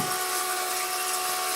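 A small gold wheel machine runs steadily with a high, whining motor hum and a few stable tonal lines, close and continuous with no talk.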